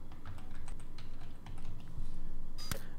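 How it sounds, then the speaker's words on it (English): A password is typed on a Mac computer keyboard as quick, soft key taps in an uneven run, ending in a sharper click, with a faint hum in the background and no speech. "we're going to type same password."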